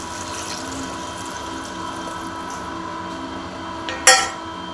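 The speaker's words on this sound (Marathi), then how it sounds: "आता आपण याच्यामध्ये आवश्यकतेनुसार पाणी घालून घेणार आहोत." Water is poured into a pot holding a lightly fried dal and rice khichdi mixture, a steady gushing splash that ends in a sharp metallic clank.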